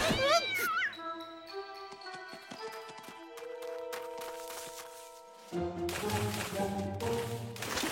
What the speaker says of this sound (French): Viens, mon petit chat, viens près de moi.